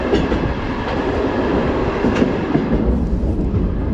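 Coal train rolling past in Kyrgyzstan, a loud, steady rumble with rattling wagons and faint clickety-clack, close and continuous without voices.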